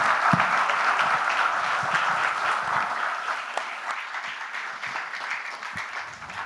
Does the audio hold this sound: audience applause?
yes